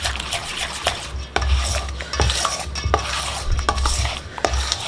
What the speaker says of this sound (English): Just mix that up.